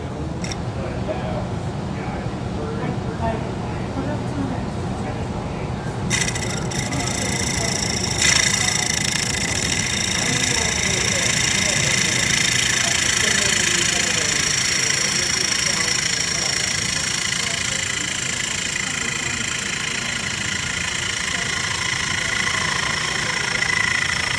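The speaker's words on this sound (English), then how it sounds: "now he's going to turn on the lathe and use a bowl gouge to smooth the interior and take off some more wood" A wood lathe turns a bowl while a bowl gouge cuts it in a sculpture studio, giving a steady motor drone that starts a few seconds in and continues under talking.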